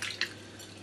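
Water dripping and trickling from soaked, rehydrated wood ear mushrooms as they are wrung out tightly by hand in a kitchen, a brief wet burst near the start over faint background hum.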